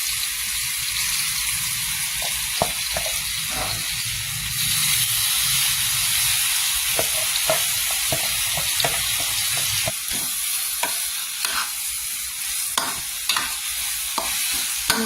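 Steady sizzling of curry paste stir-fried in a hot pan with fried garlic, with scattered clinks and scrapes of a utensil against the metal throughout.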